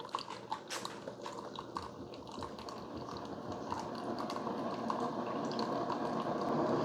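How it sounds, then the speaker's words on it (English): A Keurig K-Select or K-Supreme Plus coffee maker heats water in its tank, giving a steady, faint hiss with small bubbling and ticking that slowly swells louder; no one speaks. "you can hear it heating that water tank up"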